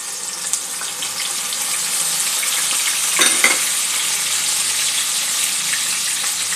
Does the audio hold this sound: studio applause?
no